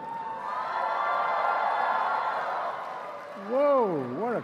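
Crowd at a formal gala dinner in Washington cheering and applauding, a steady wash of clapping and whoops that holds for several seconds before a voice cuts in over it near the end.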